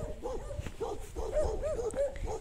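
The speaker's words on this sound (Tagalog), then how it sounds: "Aso ng kapitbahay." A neighbour's dog barks and yips in a rural farming area, a quick run of short, fairly close barks in an uneven rhythm over faint background noise.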